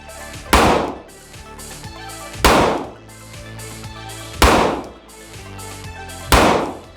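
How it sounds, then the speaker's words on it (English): Four loud, sharp Glock 20 pistol shots fired at a target, evenly spaced about two seconds apart, each a sudden broadband crack with a short ringing decay and no talking between them. "I'm just going to take a couple shots to kind of get used to the recoil"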